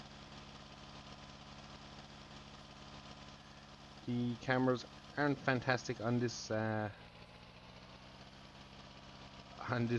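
A small tractor engine idles in Farming Simulator 19, a low steady hum running underneath throughout, with someone talking over it in the middle stretch.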